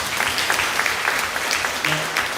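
Church congregation clapping in encouragement during a Korean sermon, a brief, steady round of hand claps filling the room, with a faint voice briefly underneath.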